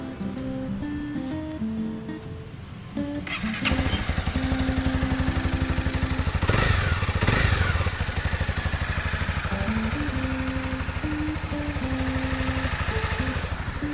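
A 2019 Honda CB300R motorcycle engine running at idle, giving a steady, close mechanical throb with a light clattery texture, with a brief rise in noise partway through.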